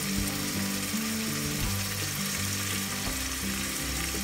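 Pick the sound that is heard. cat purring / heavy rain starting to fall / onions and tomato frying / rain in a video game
onions and tomato frying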